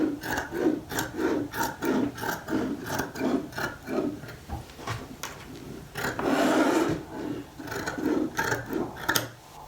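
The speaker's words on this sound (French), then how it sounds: "Donc je vais prendre mon ciseau et je vais raboter." Scissors trim fabric for a sewn poncho, giving a quick, rhythmic series of faint snips and rustles, briefly pausing midway before the cutting resumes, close by with no one talking.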